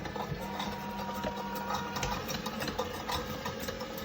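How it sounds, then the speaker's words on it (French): An electric mixer whips cream into chantilly at low speed, a quiet steady mechanical whir with faint rhythmic rattling from the beaters throughout. "je monte ma crème en chantilly. Donc, c'est parti pour notre crème. Je commence à petite vitesse"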